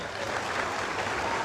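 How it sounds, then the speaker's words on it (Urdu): An audience at a formal signing ceremony claps in a steady, dense burst of applause, fairly loud and even for a short moment. "چلیں جی، سیلانی کے لیے بھی زوردار تالیاں"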